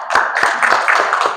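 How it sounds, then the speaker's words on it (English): A church congregation claps at a service in quick, even rhythm, close and fairly loud for a brief moment. "Let's give a big applause."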